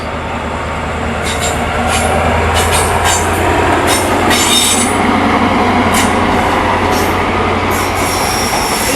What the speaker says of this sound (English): It sounds like one of those, you know, the cross country 221 Super Voyagers coming in.